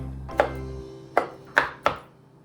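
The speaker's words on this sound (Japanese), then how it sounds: "アボカド1/2切りますね" A knife slices through half an avocado on a cutting board, giving four distinct chopping thunks in an uneven rhythm, close and fairly loud with nothing else around them.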